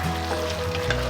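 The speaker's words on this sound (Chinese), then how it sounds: "下入我们刚刚炸好的大豆腐块儿，然后迅速的翻炒" Fried tofu chunks being stir-fried in a thick, sticky sauce, a brief steady sizzle with light stirring scrapes, close and moderately loud, with no one talking.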